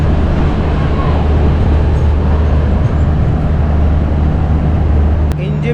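The NJP to Alipurduar Vistadome train, number 15777, pulls into Chalsa station with a loud, steady rumble and low mechanical hum close by, ending in a brief sharp click.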